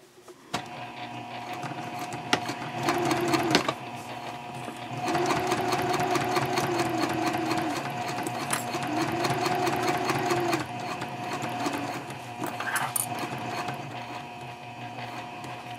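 Sewing machine stitching a messenger bag flap 3/8 inch from the edge at stitch length 3.0, with backstitching at the ends. A close, steady mechanical whir comes in several sustained runs separated by brief pauses.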